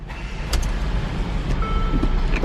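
A 2018 Mercedes-Benz GLA 250 4MATIC starting up: a brief click and crank, then a steady, low engine idle heard from inside the cabin, with faint beeps.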